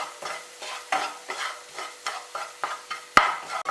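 Egg noodles tossed with masala powder in a hot pan, a rhythmic series of scraping stirs over a soft sizzle, close and steady, with one sharp clank of utensil on pan.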